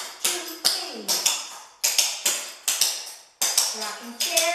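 Metal-tapped clogging shoes strike a hard floor in quick paired clicks and scuffs, repeating in an even rocking-chair step pattern with sharp, close taps and brief gaps between groups.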